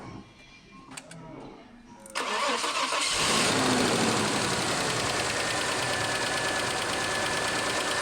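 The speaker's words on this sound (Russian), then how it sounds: "И вот стук идет, как мы слышим, с левой головки, со стороны водителя, по ходу движения." An Audi A6 with an AGK engine cranks and starts, then idles loudly and close with a rapid mechanical knock from the camshaft and hydraulic lifter on the driver-side left cylinder head.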